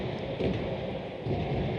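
Rain pours on a rainy evening at a Premier Soccer League football match between Mamelodi Sundowns and TS Galaxy in Bombela, heard as a steady, dense broadband hiss with faint rumbles and no talk.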